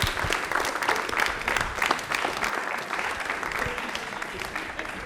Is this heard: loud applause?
yes